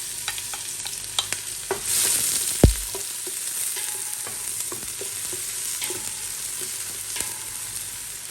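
Sliced onion dropped into a pan of hot cooking oil, giving a steady close sizzle with light stirring scrapes and a brief louder splash as it goes in.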